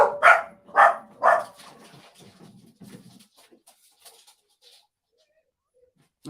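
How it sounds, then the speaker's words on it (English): Dogs barking outside: three loud, sharp barks in quick succession, then fainter scattered yips and rustling trailing off into quiet. "Oh, they're going to go barking outside."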